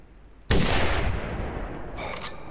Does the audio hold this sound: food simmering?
no